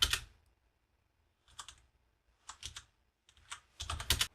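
Bursts of keyboard typing, close and crisp, separated by short silences: a quick flurry at the start, then several clusters of rapid keystrokes building toward the end.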